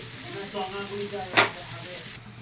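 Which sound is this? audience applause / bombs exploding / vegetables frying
vegetables frying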